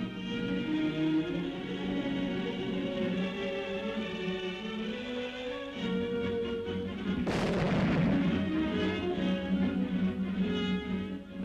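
A World War II artillery battery fires shells, heavy booms rumbling over a continuous droning background, with a sharp loud blast partway through.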